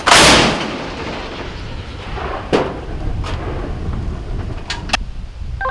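A heavy artillery gun fires with a loud, booming blast up close, followed by a long rumbling echo and a few fainter cracks.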